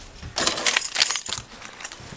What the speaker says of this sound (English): Let me get the keys